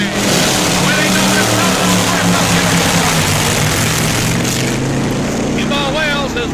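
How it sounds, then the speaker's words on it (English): Supercharged fuel-injected Chrysler drag racers in the first round of Top Gas Eliminator roar off the line together, a loud, dense engine blare filling the whole stretch with a steady high-revving drone and a commentator's voice running over it. "Supercharged fuel-injected Chryslers ready to go in the first round of Top Gas Eliminator."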